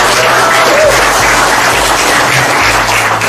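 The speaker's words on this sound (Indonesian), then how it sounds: "Boleh tepuk tangan." Loud, continuous applause from an audience at a farming fertilizer product presentation, a dense steady wash of many hands clapping throughout with no pauses.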